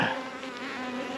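Honeybees swarm and drone loudly at a freshly opened hive stacked with capped honey, a steady, dense buzz close by with no voices.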